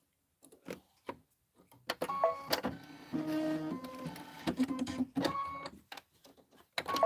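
Embroidery machine sewing a placement stitch on autumn border applique work, whirring in bursts with rapid mechanical needle clatter and short pauses between runs, close and fairly loud.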